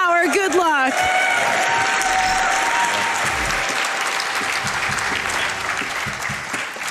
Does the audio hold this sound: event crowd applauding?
yes